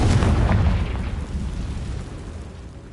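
A Confringo fire spell blasts in Hogwarts Legacy, a loud, close burst with heavy low rumble that hits at once and then fades slowly over a few seconds.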